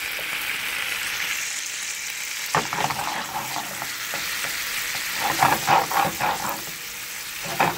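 Wine marinade sizzles and bubbles as it reduces in a pan, a steady frying hiss with scattered crackling pops and occasional stirring scrapes, close and alone with no talk.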